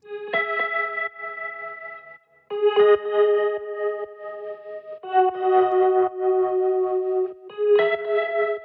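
Shimmering electric guitar through a Klevgrand Stark chorus plug-in strums sustained chords in four spaced phrases, with a watery, slightly echoing tone and no talking.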